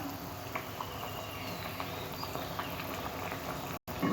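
Jackfruit kofta curry simmers in a pan on a gas stove, giving a steady, close bubbling and popping with faint spatters that carries on throughout, with no voices.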